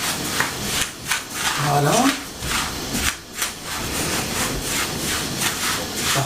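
Couscous semolina being worked with oil by hand in a bowl, soft gritty rubbing and rasping strokes in repeated sweeps, close up, while a voice talks over it.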